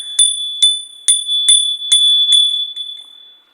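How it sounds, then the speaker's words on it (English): A bell struck about seven times in a steady rhythm, each strike giving a bright, clear ring that lingers and fades, close and loud with no talking. "Now I'm going to hit the bell for a minute."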